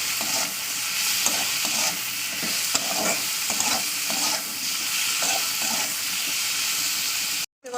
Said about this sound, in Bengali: দিয়ে একটু ভালো করে তেলের সঙ্গে কষিয়ে নিচ্ছি।